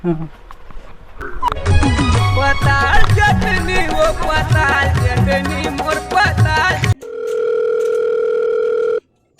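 Loud music plays for several seconds, then cuts to a steady, unbroken telephone dial tone that holds for about two seconds before stopping abruptly.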